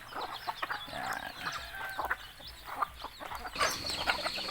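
Several farmyard roosters cluck and call in overlapping bursts, near and fairly soft, with a steady scatter of poultry noise throughout.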